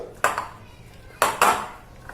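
Coconut laddu mixture being stirred in a bowl, with three sharp clinks of a spoon against the dish separated by quiet pauses, close and clear, no talking.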